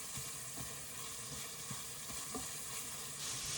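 Mushrooms for a ravioli filling fry in a pan with a soft continuous sizzle broken by light stirring scrapes, quiet and close.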